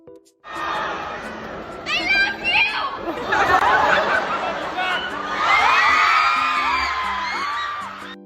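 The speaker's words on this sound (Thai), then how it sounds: "ซึ่งก็ทำให้เกิดเสียงกรี๊ดดังสนั่นหอประชุมดังกล่าว" A crowd of university students screaming and cheering loudly in an auditorium, sustained shrieks and whoops rising and overlapping for several seconds.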